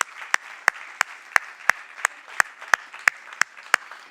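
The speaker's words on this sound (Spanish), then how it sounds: "Dale un aplauso al Señor, claro que sí." A church congregation claps during a worship service, sharp, evenly spaced claps on a steady beat of roughly three per second, close and clear over a quiet background.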